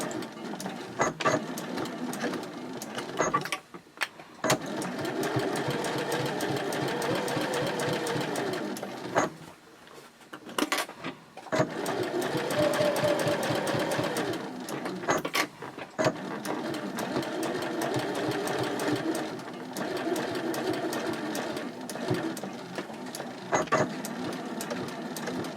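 A sewing machine stitches a seam at a 2.6 stitch length on a sling, running in long steady bursts with brief pauses and restarts between them.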